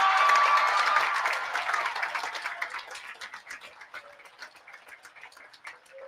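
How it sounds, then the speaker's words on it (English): A graduation crowd at W.F. West's 2025 ceremony applauds the graduates, starting as a loud, dense burst of clapping, then thinning gradually to scattered individual claps as it dies down. "Ladies and gentlemen, please give a big round of applause for the accomplishments of these young people."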